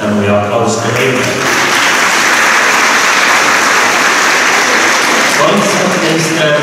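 An audience applauds at a church Christmas concert by a Paide high school, with dense, loud, sustained clapping that fills the room and fades as a voice resumes speaking at the end.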